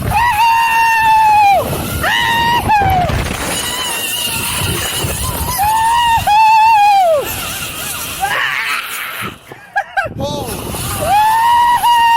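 A group of riders screaming on the Screamer amusement ride at Camp Qwanoes, long loud rising-and-falling shrieks in repeated bursts with brief gaps, close to the listener, with mechanical ride noise and wind underneath.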